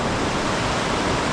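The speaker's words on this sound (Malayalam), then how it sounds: "This is hot water. It's come from deep." Hot spring water rushes steadily inside a gurdwara, a constant, loud, broadband flow with no pauses and no voices.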